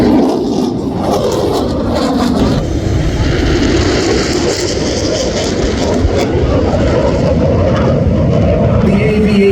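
An AV-8B Harrier jet hovering in vertical mode at the Miramar airshow, a loud, continuous roaring engine blast with broadband rumble that holds steady for the whole stretch, with no break.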